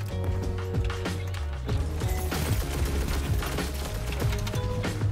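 A Seventh Seraph Carbine auto rifle fires in a video game, a rapid stream of sharp mechanical shots in steady bursts over a low droning hum, close and loud throughout.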